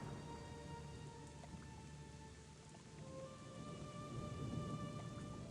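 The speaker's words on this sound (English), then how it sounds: "Why is it that Gothic 2 mods make lightning crack, like, 10 times more often than it should?" Steady rain and distant rumbling thunder fill a stormy scene in the Gothic II mod Chronicles of Myrtana, a faint continuous hiss with low rolling swells and no voices.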